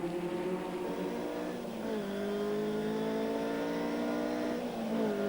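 Race cars from 1994 British motorsport at speed down a speedway straight on a circuit, a loud sustained engine whine with rising and falling pitch as gears shift, heard from onboard with another car close behind.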